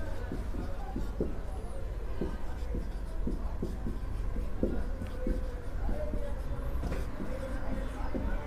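Pen scratching out a math question on paper in a class 10 lesson, a series of short scratchy strokes in uneven rhythm, close and moderately loud, with a voice talking over it and a low background hum.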